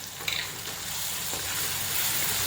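Garlic chutney frying in hot oil over mashed tomatoes for an eggplant-potato curry, a steady close sizzle with a faint clink near the start and no talk.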